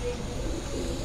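Fancy pigeons coo softly and steadily at a Karachi pigeon keeper's home, a low murmuring rumble with no talk over it.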